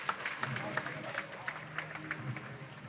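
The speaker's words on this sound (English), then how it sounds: "And a big cheer for Yihang Wang." A crowd cheers and applauds for the winner at the 2023 Rubik's WCA World Championship, with a steady wash of clapping and scattered whoops filling the whole stretch over a faint announcer's voice.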